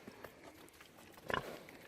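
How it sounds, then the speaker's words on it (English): A pig grunts once, a short low snort rising briefly above quiet barn background noise, faint and close. "Good morning, little pig."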